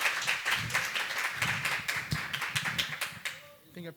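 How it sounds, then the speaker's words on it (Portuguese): A small student crowd at a youth council session claps for a speaker named Daniel, mixing close, sharp individual claps with a steady patter. The clapping stops after about three seconds, and a voice and rustling follow. "Vamos aplaudir o Daniel"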